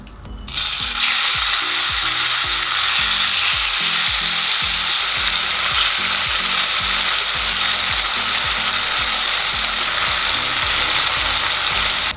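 Loud continuous sizzling of kachki, tiny river fish, frying with a spice mixture in a wok, with a steady rhythmic mechanical clicking underneath and no voices.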